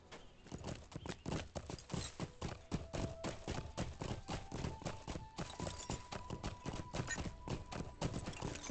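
Rapid, regular clip-clop of horse hooves on a hard surface in Lord of the Rings Online, close and steady throughout, with a faint tone rising in the background.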